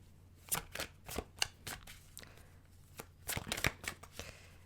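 Tarot cards being shuffled in quick riffling bursts, a few short rustling runs separated by brief pauses, fairly close and moderately quiet.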